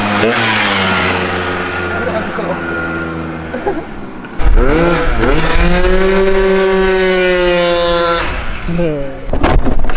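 A two-stroke 50cc gas moped engine revs hard, rising and falling in pitch with a buzzy, harmonic-rich whine, close and loud, pausing briefly before a second sustained rev.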